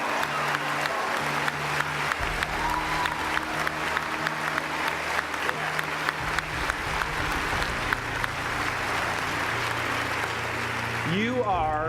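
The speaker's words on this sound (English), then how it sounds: "give yourself a round of applause" A large commencement crowd applauds the graduating class of 2017, a steady, loud wash of clapping and cheering sustained throughout, with a low hum beneath.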